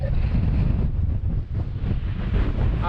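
Strong, relentless wind on an exposed Lake District fell top buffets the microphone in a loud, low, continuous roar with gusty swells and slight dips, with no other sound standing out.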